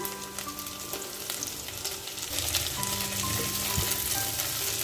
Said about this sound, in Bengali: সব কিছু আবারও দুই তিন মিনিটের মতো ভাজি করে নেব